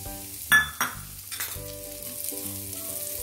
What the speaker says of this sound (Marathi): त्यामध्येच आता आपल्याला ही शेवया भाजून घ्यायच्या आहेत।